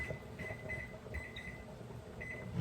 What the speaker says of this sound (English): I set the timer over here for 12